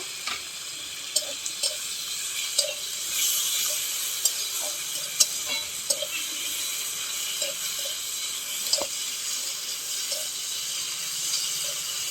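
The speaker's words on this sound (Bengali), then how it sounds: "আদা বাটা, এই মশলাটা খুব ভালো করে কষে নেব।" Ginger paste and garlic spice mix frying in a pan, a continuous hissing sizzle with scattered small pops and clicks of stirring, close and steady with no talk.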